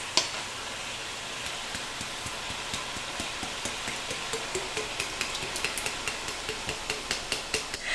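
Deer empanada filling with sofrito base simmering in a pan, a steady close sizzle with faint rhythmic tapping or stirring knocks throughout.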